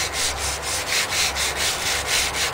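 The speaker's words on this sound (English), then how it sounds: "take your 80 grit sandpaper, or 100, whatever you choose, and you just want to go up and down the gun again" Sandpaper of 80 grit rubbed up and down a Mosin Nagant rifle's wooden stock, making about ten rhythmic, scratchy strokes in quick, even succession, close and fairly loud.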